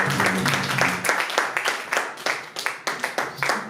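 Church congregation applauding singers, with scattered claps that grow into rhythmic clapping and sharp irregular hand slaps near the listener, mixed with some speech at the start.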